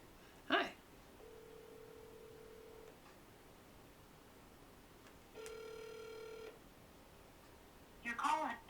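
Phone call ringing before being forwarded to voicemail: two long steady ring tones a few seconds apart, clear and moderately loud, with short bursts of voice before and after.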